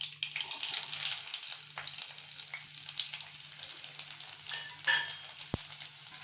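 Small chopped garlic cloves hit hot oil with popped mustard seeds in a home kitchen, giving a soft steady sizzle with light crackles and a brief clink of a utensil, no talking.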